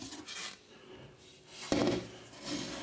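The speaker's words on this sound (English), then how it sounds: "Taking out the pot here." A cooking pot is lifted out and set up while chicken is cooked. A few faint rubbing and scraping sounds come first, then one sharp metallic clunk partway through, followed by softer handling noise, with no talk.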